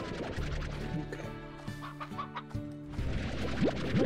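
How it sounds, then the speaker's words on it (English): Chickens cluck in the video game Slime Rancher. Several birds overlap in steady, close clucking that runs through the whole stretch over a low game ambience, with no talking. "Look at all of these chickens."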